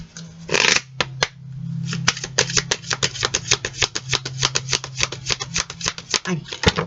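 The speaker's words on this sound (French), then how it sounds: "On va voir ça avec l'oracle des miroirs." Oracle cards are shuffled by hand in a quick, steady run of crisp riffling clicks and slaps that continues for several seconds under a low background hum.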